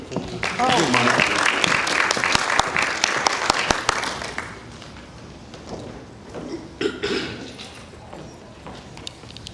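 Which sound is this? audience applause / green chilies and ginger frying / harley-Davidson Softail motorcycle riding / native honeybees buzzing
audience applause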